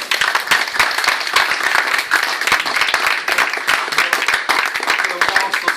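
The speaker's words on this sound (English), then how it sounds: "give a really generous you know, round of applause for Leonard" Generous round of applause from an audience at a community event for a book scheme with the Rotary Club, dense steady clapping filling the whole stretch without pause.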